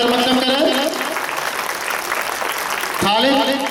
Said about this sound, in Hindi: आप लोग तालियां बजाकर खैर मकदम करें।